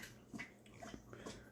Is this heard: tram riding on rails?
no